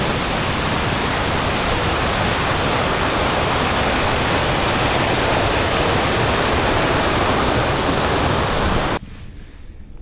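A mountain river in the Himalaya rushes loudly and steadily, a dense broadband roar close to the microphone that cuts off abruptly near the end, leaving only a faint hiss.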